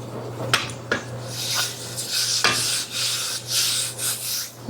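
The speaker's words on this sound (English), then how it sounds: "I'm going to put a little bit more flour on the board and on my rolling pin just so that things don't stick" Floured rolling pin rolling out pie dough on a board, a close, soft repeated rasping rub in uneven strokes with occasional light knocks, no talking.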